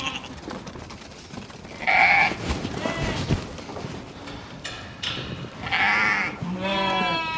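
Ewes and lambs on a farm bleat several times, loud and close, over a low rustling background with a few quiet voices.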